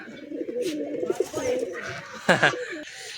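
Pigeons coo in low, rolling bursts nearby, joined briefly by a sharper bird call.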